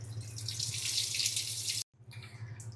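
Broken rice grits are washed under running tap water, a steady close splashing stream that stops abruptly for a moment near the end, then resumes.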